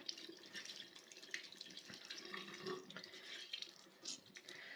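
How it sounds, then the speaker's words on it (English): Water runs from a tap to wet an e.l.f. Camo makeup blender sponge, a soft, steady trickle and splash heard close but faintly, with no voices. "I am going to get this e.l.f. Camo blender and I'm just going to wet it with a little bit of water."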